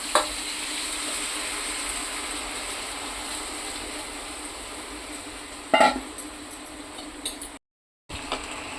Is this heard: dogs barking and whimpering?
no